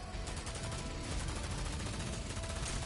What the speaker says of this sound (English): it's got a giant minigun